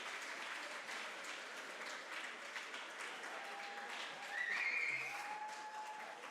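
Applause from the audience at a Eurobot 2024 robotics finals match, fairly faint and steady, swelling a little near the end, with a brief tonal beep and some distant chatter mixed in.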